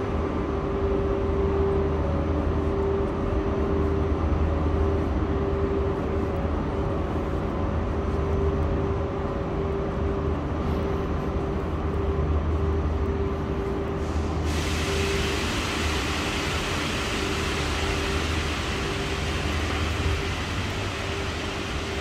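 A steady, loud rumble of a train in Barcelona with a constant low hum and a sustained tone, broad noise washing throughout with no voices.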